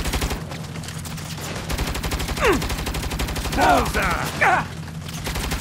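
Rapid turret gunfire rattles continuously in the video game Saints Row, a dense machine-gun stream running throughout, with shouted voices breaking in over it.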